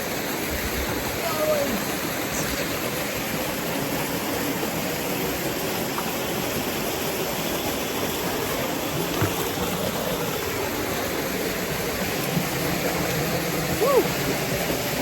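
River water runs in a constant broad rush, close and steady throughout, with a few faint splashes and no talk over it, in an off-grid countryside setting in Jamaica.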